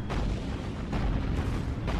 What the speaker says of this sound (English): And unload our cannons on this destroyer.